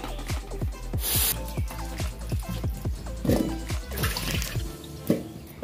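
Water pours into a cooking pot to boil pumpkin, a steady trickle with rapid bubbling glugs that run for several seconds close to the listener, with no talking over it.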